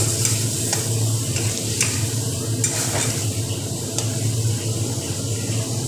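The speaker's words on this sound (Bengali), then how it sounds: "খুব ভালোভাবে আমি এই টমেটো পেস্টিংটাকে ভাজা করে নিব তেলের সাথে" Ginger and tomato paste frying in oil in a pan, a loud continuous sizzle close by with scattered clinks and scrapes of a spoon being stirred through it, no voices.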